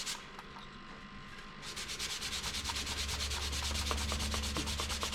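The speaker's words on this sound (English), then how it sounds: "I'm sanding this and sanding." Steady, rhythmic sanding of stainless steel trims with a fast scratchy back-and-forth rubbing, close and continuous, growing louder and denser after the first couple of seconds.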